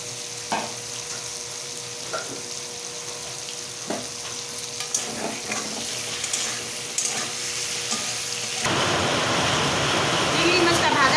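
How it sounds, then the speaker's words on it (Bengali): Prawns frying in a pan make a steady sizzle with occasional stirring clicks, growing louder and denser toward the end, with some talk alongside. "চিংড়ি মাছটা ভাজা হয়ে গেছে"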